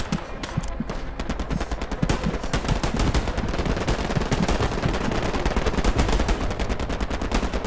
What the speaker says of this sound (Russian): тут сейчас стреляет вражеский